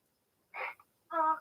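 A sneeze is heard during a live football pre-season friendly stream: two short, moderately loud bursts about half a second apart, the second more tonal, with silence around them.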